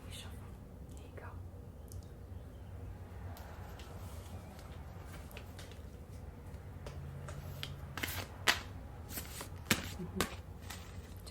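A deck of flower remedy cards shuffled by hand in a quiet room, soft papery riffles and taps building into sharper clicks near the end, with whispering in the background.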